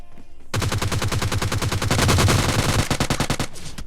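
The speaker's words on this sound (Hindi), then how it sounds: "अब देखो कहीं दूर से गोलियां चली" Rapid automatic gunfire in PUBG Lite rattles in a dense, sustained burst of dozens of shots, loud and sharp, starting half a second in and breaking into shorter bursts toward the end.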